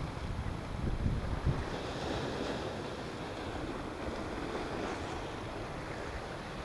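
Wind gusts over a rough sea as waves break and wash against the shore where squid and cuttlefish are fished, a continuous roar with buffeting wind noise on the microphone.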